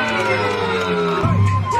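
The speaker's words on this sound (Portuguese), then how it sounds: "Palmas pra batalha!" A crowd at a Brazilian freestyle rap battle whoops and cheers loudly and close by, a dense burst of mixed voices with shouting rising near the end.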